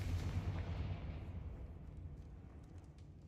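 Booming blast of the Confringo fire spell in the Hogwarts Legacy video game, a loud explosive burst at the start that rumbles and decays over a few seconds, with no talking.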